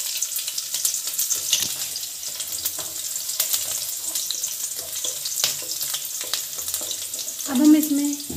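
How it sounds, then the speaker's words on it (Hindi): Garlic and green chili frying in a pan with oil for Chinese-style Maggi noodles, a steady close hiss of sizzling with intermittent stirring scrapes and clicks, rising briefly near the end. "फ्रेंड्स अब हम अपनी सारी सब्जियों को अच्छी तरीके से भून लेंगे।"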